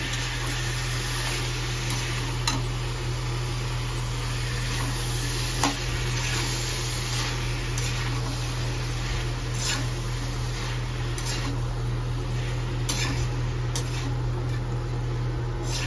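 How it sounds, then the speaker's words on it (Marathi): Vegetables, brinjal and potato, stirred in a pan on the stove, a steady frying hiss with scattered scraping and clicking of the spoon throughout. "आता ह्याला आपण व्यवस्थित मिक्स करून घेऊया"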